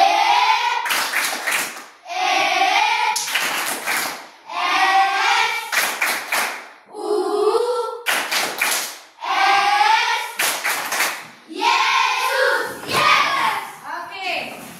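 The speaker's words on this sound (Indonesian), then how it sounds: "Tepuk Yesus 2 3 ya, tepuk Yesus." Children clapping a rhythmic chant in a classroom, bursts of sharp hand claps in patterned groups alternating with young voices chanting and talking, close and lively.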